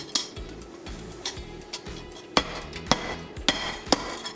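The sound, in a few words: sledgehammer hammering copper bracelet flat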